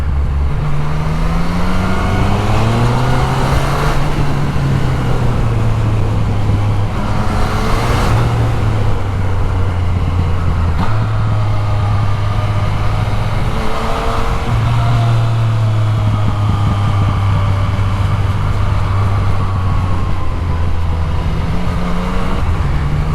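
A motorcycle rides along a cliffside road in Switzerland, its engine droning steadily and close throughout, pitch rising and falling through gear changes and throttle shifts.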